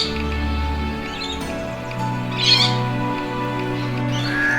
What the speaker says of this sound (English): If you're wondering what that very loud screeching that's coming up is, it's probably rainbow lorikeets